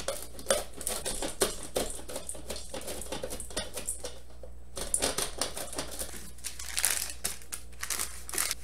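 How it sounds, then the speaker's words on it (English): A solid frozen block of butter is rubbed against a grater, making close, rapid, uneven scraping strokes with a brief pause midway. "I'm going to grate half of this block, so about 4 ounces of butter is what we're grating."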